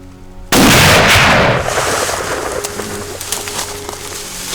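A single loud rifle shot fired while hunting Cape buffalo in Zimbabwe's Zambezi Valley, sharp onset with a long rolling echo decaying over several seconds, faint birds in the background.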